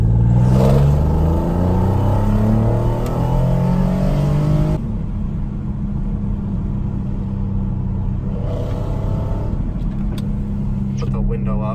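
A 2014 Porsche Cayenne engine revs and pulls while driving on a quiet secluded road, a steady loud in-cabin rumble that swells at the start and again near the end, with talk over part of it.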